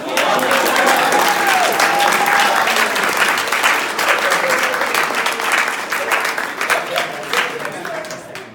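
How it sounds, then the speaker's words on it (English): Audience applause at a school senior showcase, a loud sustained round of clapping throughout with some voices mixed in underneath. "So everyone, give a round of applause."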